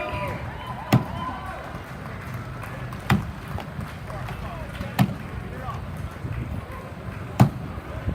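Axe strikes into a 12-inch white pine log at a lumberjack chopping competition, four sharp, well-spaced chops standing out over an announcer's commentary and crowd noise.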